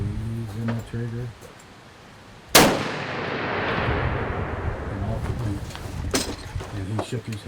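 Single sharp rifle gunshot at a benchrest shooting competition in Kentucky, the shooter firing from a Zeb rest; a loud crack rings out with a long decaying echo across the range, with faint talk before it.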